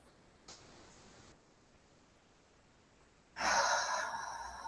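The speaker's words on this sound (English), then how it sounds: "Big breath in." A deep breath drawn in during a guided breathwork session: a soft, airy inhale early on, then a louder, fuller rush of breath that carries through to the end.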